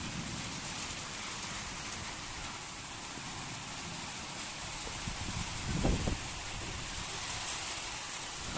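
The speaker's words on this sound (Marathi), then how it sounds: "अवकाळी पाऊस चालू आहे मित्रांनो" Steady unseasonal rain falls on a wheat field with a continuous broad hiss, a brief thump of wind or handling near the middle, no voices.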